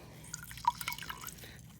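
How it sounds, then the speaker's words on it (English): A wrung-out towel releases water after being dipped to clean a skateboard, giving a few faint, scattered drips and small splashes into a little container, close by, with no talk. "Now just kind of fold it over itself and then just wring it out."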